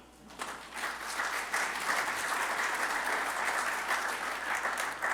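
Applause from an audience at an energy and commerce event in Louisiana swells in after a quiet start and then continues as a dense, steady clatter of clapping.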